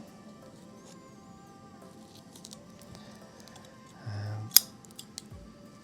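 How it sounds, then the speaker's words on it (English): Scissors trimming the edge of a thermoplastic finger splint give a single sharp snip after a soft brief scrape, against a quiet room with faint handling sounds. "So just make a little trim, just like that."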